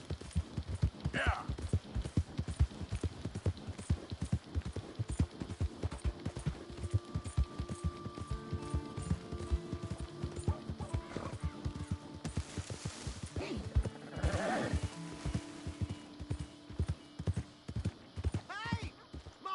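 Horse hooves clip-clop in a steady, continuous rhythm in the Red Dead Redemption 2 video game, with a brief whinny near the start and another toward the end, under game music and some speech.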